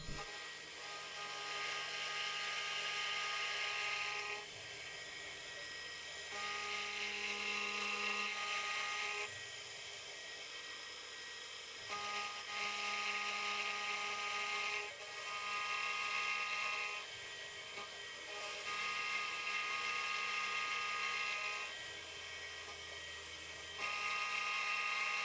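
Metal machining cuts a 1.5mm deep step with a boring and facing head, a loud, steady high whine that runs in long passes and stops briefly between them, close by with no talk.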